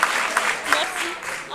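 Brief burst of audience applause at an improv theatre festival in Paris, a dense wash of clapping with a voice cutting in near the end.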